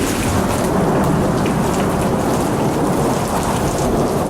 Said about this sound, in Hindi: बादल की घन गरज और बरसात ने पंडाल के मकीनों की मुश्किलात में इजाफा कर दिया